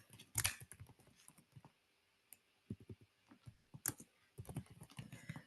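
Keys click on a computer keyboard in short bursts with pauses between, quiet and close, as an address is typed into a property-listing search field.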